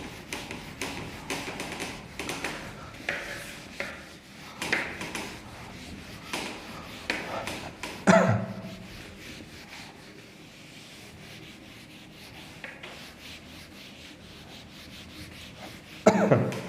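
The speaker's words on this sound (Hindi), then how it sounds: "इसे मैं रब कर देता हूं।" A board is rubbed clean of writing in a classroom-style lesson, with bursts of scrubbing and rubbing strokes, a few sharp knocks and taps, and stretches of quieter rustling in between, close and without talk.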